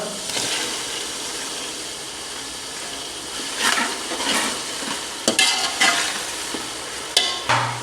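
Tomatoes frying in a pan after garlic and ginger for aloo baingan, a steady close sizzle and hiss with intermittent louder scrapes and clatters of a spoon stirring the mixture.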